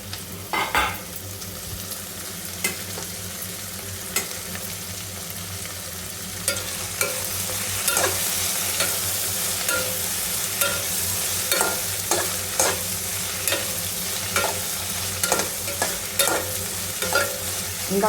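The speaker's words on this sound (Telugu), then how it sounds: "ఇంకా కాసేపు ఫ్రై అవ్వాలి." Capsicum fries in a pan, with a continuous sizzle under repeated scraping strokes of a spoon. The stirring comes in an irregular rhythm and is close and fairly loud throughout.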